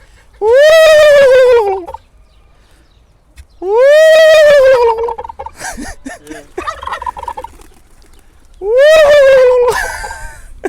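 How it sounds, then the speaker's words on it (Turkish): Three loud, warbling gobbles from a nearby turkey, each about a second and a half long, separated by quieter rustling and faint clucks. "Şöyle hindimiz de bizim peşimizden geliyor."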